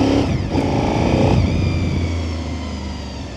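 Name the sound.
Honda VTR SP2 2002 V-twin motorcycle engine revving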